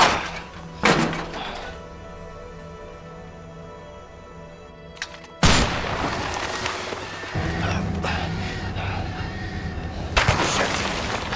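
Sniper rifle fire in A Way Out at Harvey's mansion, sharp loud cracks heard several times, one early and two heavy blasts later, over a noisy game background.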